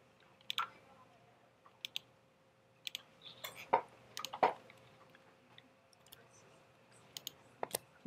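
Sharp, quiet mouse clicks at a computer while working in Illustrator, coming singly and in quick pairs at irregular intervals over a faint steady hum, with no talking.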